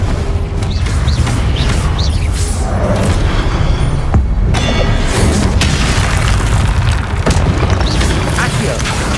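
Repeated booming spell blasts from the Confringo explosive spell in the video game Hogwarts Legacy, loud and continuous, layered over other spell effects and a voice shouting spell names.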